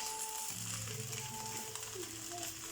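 An egg for drunken noodles drops into a hot pan and begins frying, a close, moderate sizzle with faint crackles and light scraping, no voices over it.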